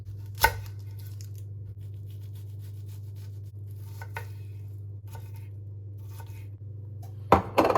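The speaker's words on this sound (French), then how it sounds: "C'est parti pour l'échalote. On va la ciseler ultra finement." A knife finely minces a shallot on a cutting board, producing sparse, crisp taps against a steady low background hum, with a sharper cluster of clatter at the end.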